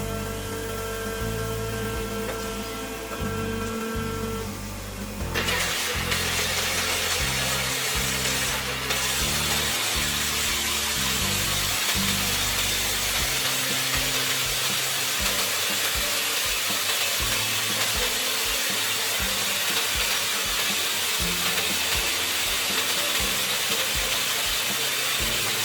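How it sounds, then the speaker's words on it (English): Kaishan KJ311 drilling rig boring a hole, a loud steady hiss and rumble of air-driven drilling that continues unbroken after a brief tonal start. "Drilling hole."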